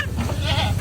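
Goats bleat on a farm in a brief, loud, close call, a wavering cry over a low rumble of background noise.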